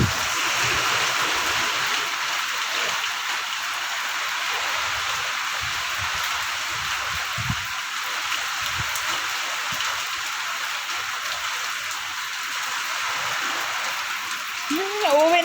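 Heavy rain pours down as a steady, dense hiss, with a voice faintly audible underneath.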